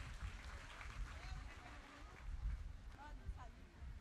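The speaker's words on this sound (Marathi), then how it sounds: "सर्वांनी जोरदार टाळ्या वाजवून त्यांचं अभिनंदन करायचं आहे" Audience applause at a church novena cultural program after a dance performance, a steady, fairly faint patter of clapping with murmuring voices mixed in.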